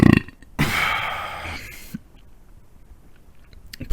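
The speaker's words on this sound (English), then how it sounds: "I said, look, I just had a cola, so I might burp a few times." A burp after drinking cola comes as a loud, drawn-out belch in close-up, following a short mouth noise and then fading into quiet, with a small click at the end.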